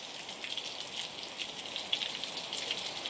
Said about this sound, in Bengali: প্রচন্ড পরিমাণে বৃষ্টি হচ্ছে দেখো